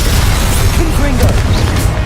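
Confringo explosive spell blast in Hogwarts Legacy, a loud continuous rumbling burst with crashing combat noise around it and a voice shouting nearby.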